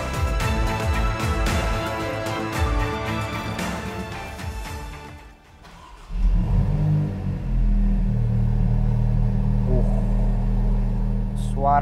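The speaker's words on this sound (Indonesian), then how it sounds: "Suara V6-nya itu keren banget." Maserati MC20 with its carbon-covered V6 engine: a dense, loud revving burst gives way to a steady, deep, close rumble, with a voice talking over it.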